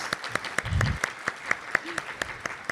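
Sparse applause at a college honor society induction ceremony: a handful of separate hand claps ring out in a steady rhythm, with a brief low voice or murmur partway through.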